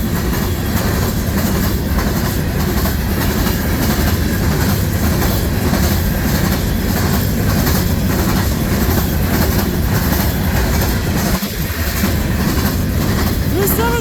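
A CN freight train of empty cars, led by AC44C6M locomotive 3303, rolls past at Ladysmith, Wisconsin, a loud, close, continuous rumble with rhythmic wheel clickety-clack throughout.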